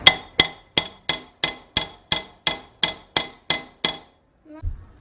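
Eleven sharp, evenly spaced metallic hammer blows ring out on a Toyota Corolla brake drum at a steady pace, followed by a short dull thud.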